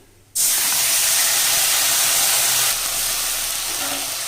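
After a moment of quiet, onion paste goes into hot oil that was tempered with dried red chillies and cumin, bursting into a loud, close sizzle that hisses steadily and eases a little toward the end.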